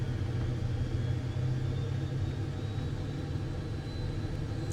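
Steady, loud engine drone and low rumble inside an aircraft flying through turbulence in Microsoft Flight Simulator 2024, an unbroken hum with no talk.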